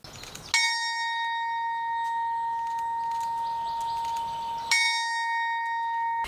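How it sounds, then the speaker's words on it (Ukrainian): Two clear, ringing strikes of a memorial church bell, several seconds apart, each leaving a long sustained metallic hum that fades slowly, heard alone in a quiet setting. "в останні дні кожного місяця лунає дзвін пам'яті"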